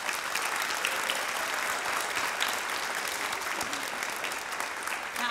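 An audience at a 5th grade elementary school graduation claps for the graduating students, a dense, steady round of applause from a full room lasting several seconds.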